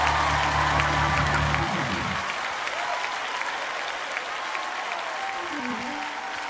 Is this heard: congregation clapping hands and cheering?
yes